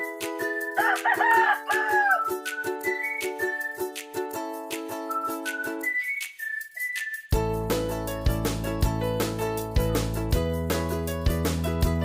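Chickens, including Texas gamefowl, with a rooster crowing near the start among softer bird calls on a Philippine backyard farm; loud rhythmic background music with a steady beat fills the clip and dominates the second half.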